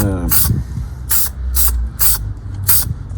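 Spray paint hisses in five short, sharp bursts onto a 1:64 scale die-cast Chevy Tahoe, each puff close and distinct, separated by brief pauses, with low background noise underneath.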